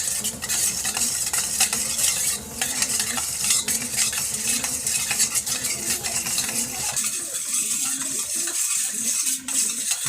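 A spoon scrapes and clinks steadily around a bowl while stirring the curd mixture for dahi baigan, a rhythmic close stirring that continues throughout.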